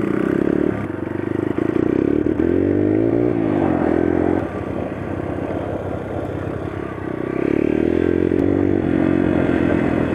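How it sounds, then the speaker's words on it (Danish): A motorcycle engine rumbles loud and close as it passes through an intersection, its pitch rising and falling with revving and gear changes amid some clatter. "der kommer motorcykel, han kører over i krydset"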